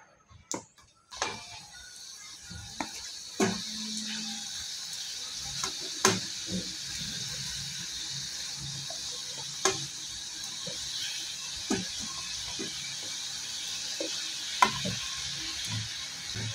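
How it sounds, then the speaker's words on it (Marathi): Shankarpali dough pieces deep frying in hot oil over a medium gas flame, a steady broad sizzle running throughout with occasional sharp clicks and taps from utensils, no voices. "मीडियम गॅसवरतीच आपल्याला फ्राय करून घ्यायचे आहे शंकरपाळे"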